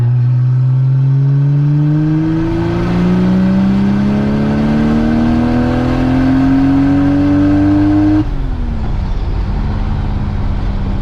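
A single-turbo Toyota Aristo under full throttle, its engine note climbing steadily through the revs for about eight seconds, loud and close from inside the car, then dropping abruptly at the shift.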